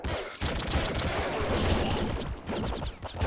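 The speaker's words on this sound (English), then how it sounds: "It's a crystal pistol." The crystal pistol fires in the Nuclear Throne Chaos Mod video game: dense, rapid synthetic gunshots crowd together into a loud burst, with a short break near the start and another toward the end.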